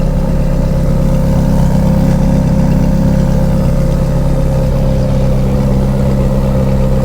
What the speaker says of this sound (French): Ah, ce moteur.